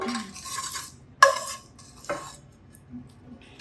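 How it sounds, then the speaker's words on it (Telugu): Fried gongura leaves tipped from a utensil into a pot, a few sharp metallic scrapes and clanks against the pot with soft rustling in between, close and without talking. "ఇదిగో వేయించుకున్న గోంగూర ఇందులో వేసేస్తున్నాను మొత్తం"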